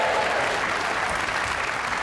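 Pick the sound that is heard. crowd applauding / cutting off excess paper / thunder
crowd applauding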